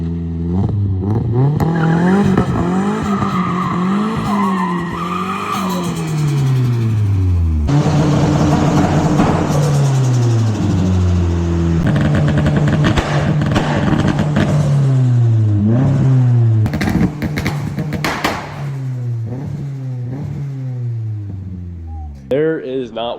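A turbocharged Nissan 240SX S13 with a KA24DE engine revs hard through several gear changes on a test drive, rising and falling in pitch as it accelerates, loud and close with brief pauses between pulls.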